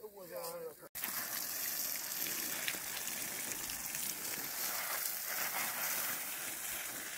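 Water gushes steadily from a hose while irrigating pak choy in a garden, a continuous rushing spray that starts abruptly after a brief moment of a voice and keeps on without a break.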